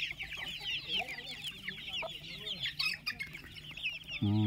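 A hen that has started laying eggs again clucks softly amid continuous high-pitched chick cheeping, with a sudden louder thump or rustle at the very end.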